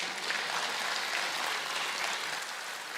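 Steady, dense applause from an audience fills the whole moment at a comedy show, a broad even wash of clapping with no voices on top.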